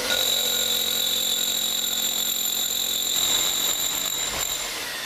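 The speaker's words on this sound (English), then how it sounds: "we're going to use this rotary hammer drill with a coring bit to give us a nice clean hole." A rotary hammer drill with a coring bit cuts through a wall, a loud, steady power-tool whine with a high sustained tone, grinding continuously throughout, easing slightly toward the end.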